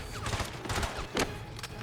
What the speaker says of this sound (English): You guys suck at shooting James Bond.